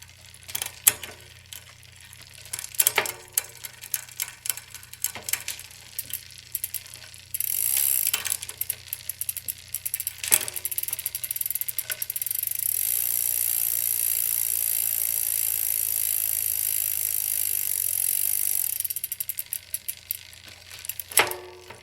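Bicycle on a stand pedalled while its gears are shifted: scattered clicks and ticks of the drivetrain early on, then a steady whirring chain run in the middle, close and unvoiced.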